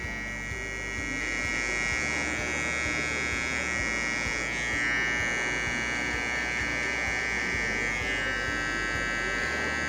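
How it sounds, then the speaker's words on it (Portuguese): Electric finishing trimmer shaping a short, designed beard, a steady close mechanical buzz with a high whine running continuously, its tone shifting slightly as it moves across the face. "Máquina de acabamento."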